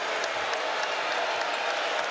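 A college basketball arena crowd at a Notre Dame versus Clemson game cheers and applauds in a steady, broad roar, with a commentator's voice faintly under it.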